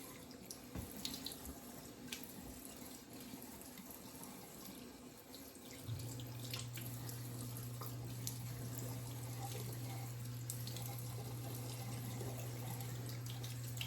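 Water running steadily from a bathroom sink tap for a quick rinse after a safety razor shave, a soft continuous stream with a few faint clicks and handling noises before it settles.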